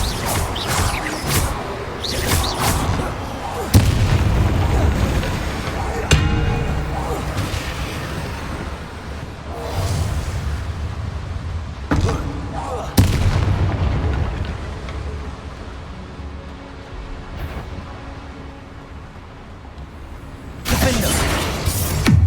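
Loud spell explosions from the Bombarda spell in the Hogwarts Legacy video game, repeated booms and blasts layered over dense combat effects and music throughout, with a burst of activity near the end.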